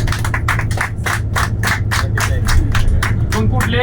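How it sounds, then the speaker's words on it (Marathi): An audience claps in unison for a company's managing director, a loud, even rhythm of roughly three claps per second sustained throughout. "टाळ्या वाजवा."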